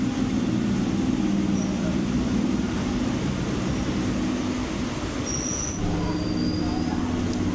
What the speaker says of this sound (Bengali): আমাদেরও ট্রেন ছেড়ে দিয়েছে